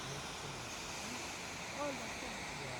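Sipi waterfall in Kapchorwa, Uganda, gives a steady, faint rushing roar, even and continuous from start to end, with a brief faint voice in the background.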